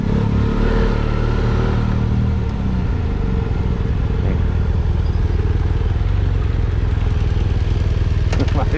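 Loaded motorcycle engine pulling hard along a Moroccan road, a loud sustained roar with rushing wind noise that eases slightly mid-way, with no talk over it.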